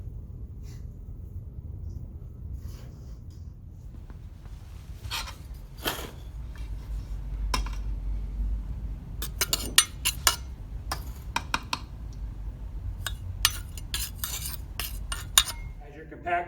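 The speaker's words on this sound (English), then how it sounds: "I'm going to apply 25 blows using my rammer." A metal rammer strikes soil in a compaction test mold with a series of sharp, irregular clicks and knocks, close and moderately loud over a low background rumble.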